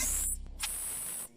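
Compressed air blasts in two short hissing bursts through a newly fitted fuel line on a 1997 Dodge Dakota 5.2-liter V8, loud and close, separated by a brief pause.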